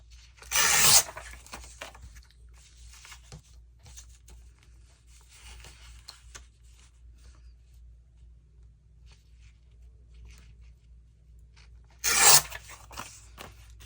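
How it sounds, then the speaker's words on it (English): Fabric scrap torn by hand to make a narrower strip, a loud ripping burst near the start and another near the end, with soft handling rustles between them in a quiet room. "I want to tear it down just a little bit. Make it a little narrower."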